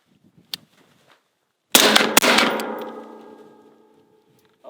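Gunfire at close range strikes makeshift steel targets during tactical corner-clearing drills: one sharp crack, then a loud metallic clang whose ringing decays over a couple of seconds, preceded by a faint click and soft murmuring.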